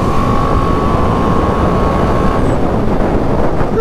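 A BMW 310R motorcycle engine drones loudly and steadily while riding, a dense rumbling roar mixed with wind rush, close and unbroken for a few seconds.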